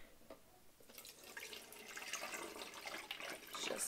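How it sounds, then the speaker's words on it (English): Rice water being poured through a small strainer, giving a soft, continuous trickle and splash of liquid that builds gently, close and fairly quiet, with no talking. "So at this point, I'm going to strain it in my little strainer here."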